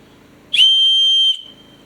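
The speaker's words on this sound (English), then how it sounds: "An emergency whistle." An emergency whistle from a medical kit gives one loud, shrill, steady blast lasting under a second, standing out sharply against quiet background noise.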